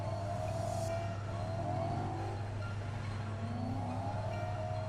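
A BMW M3 engine in Need for Speed 2015 pulls hard on the streets, a steady loud roar with a rising then falling pitch sweep as it accelerates through gears, continuous throughout with no talking.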